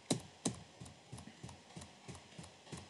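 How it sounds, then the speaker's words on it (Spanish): Arrow keys pressed on a computer keyboard, a series of about nine sharp clicks at an uneven, roughly steady pace, the first two louder and the rest softer, close by with no talking. "Si vengo abajo, con la flecha, espero que se oiga el teclado"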